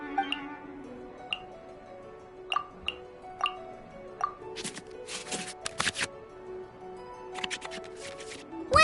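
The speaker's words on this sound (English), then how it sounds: "we can select any number of cards in our hand to shuffle back into the draw pile, and then draw the same number of new cards" Cards in a video game duel are shuffled back into the draw pile: a run of light tick-like card placements gives way to dense, fluttering riffle bursts and clicks, close and clear with no speech.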